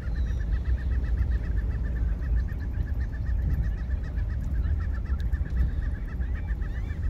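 Seagulls calling a block from Copano Bay in a small Texas coastal town, a steady series of repeated squawking cries running over continuous outdoor rumble and wind noise.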